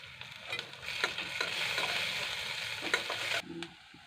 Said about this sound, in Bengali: এরপর রসুন বাটাটা দিয়ে একটু নেড়ে নেব